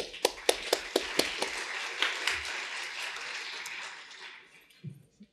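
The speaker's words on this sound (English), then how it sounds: "Big applause for Casey again." Conference audience at a Devcon4 Ethereum talk breaking into applause, starting with a few sharp individual claps, swelling into a dense round of clapping, then fading out over a few seconds.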